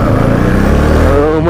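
A motorbike and a scooter pass close by on a road, producing a brief, loud engine drone that fills the whole moment.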